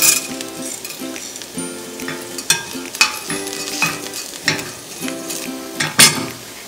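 Grated coconut fries in oil with curry leaves and black pepper, a close crackling sizzle broken by repeated metal spoon scrapes and clinks against the pan, irregular and busy, with no voices.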